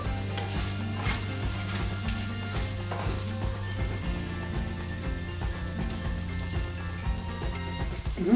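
Gnocchi stir-fried in a pan, a steady close sizzle with scraping and tapping as the pieces are tossed and mixed, under a continuous background hum, without talking.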